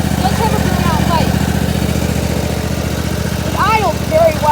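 Cub Cadet GT1554 lawn tractor with a 27 horsepower Kohler engine idling, a steady close pulsing chug throughout while people talk over it.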